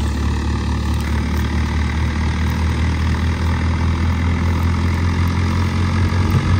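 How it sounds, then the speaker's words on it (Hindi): A 50 hp tractor with a turbo upgrade pulls a loaded trolley at low rpm, its heavy engine rumbling steadily and loudly up close without a break. "तो देखो ट्रबो किस तरह 11-12 की रेस पर भी परफॉर्मेंस दे रही है ट्रैक्टर ना पूरा अड़ा रही है।"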